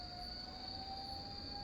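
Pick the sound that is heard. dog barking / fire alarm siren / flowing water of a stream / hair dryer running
fire alarm siren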